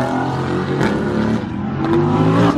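A Lamborghini Countach revs hard at a supercar meet, a loud, continuous roaring engine note that rises and swells close by.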